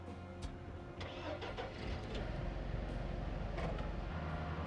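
The engine of a new scouting vehicle in the video game RoadCraft starts up and settles into a steady mid-pitched running drone, close and alone without speech.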